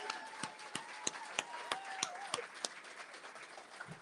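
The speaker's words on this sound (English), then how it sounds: "Let's give a round of applause to the AIA team" Scattered, sparse clapping comes from a small audience at an AIA presidential inauguration event in honor of the AIA team. Individual claps are distinct and fairly faint, sounding irregular and a little distant, with a low tone running underneath.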